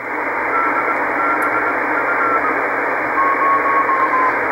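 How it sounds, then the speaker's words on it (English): The CO-66 SEEDS II amateur satellite's Morse code beacon is received on the 70 cm UHF amateur band as faint, steady keyed tone dashes that sit just above a constant loud hiss of radio static. "If you decode the Morse code info, basically it gives battery voltage, internal temperature"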